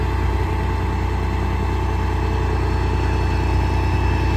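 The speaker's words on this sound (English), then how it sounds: "Truck starts right up, it sounds great." A 2007 Freightliner M2 diesel truck carrying a knuckleboom crane idles steadily and close, its low rumbling engine note unchanging for several seconds with no voices over it.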